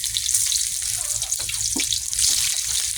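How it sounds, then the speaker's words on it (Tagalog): Garlic and onion sauté in a hot pan, giving a steady bright sizzle throughout. A few faint clinks and a low background hum sit underneath. "Gisa natin yung bawang. Tapos sibuyas."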